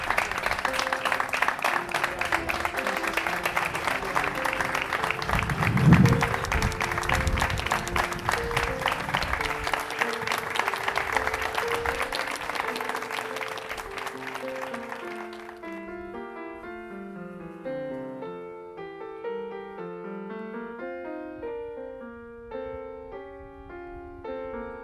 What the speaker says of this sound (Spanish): Per favor, un aplaudiment.